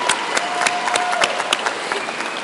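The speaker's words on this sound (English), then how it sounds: "Oh, yeah, okay, let's applaud for them now." A convocation audience applauds the event staff, a dense steady clapping that fills the room for the whole stretch, with a faint sustained tone running underneath.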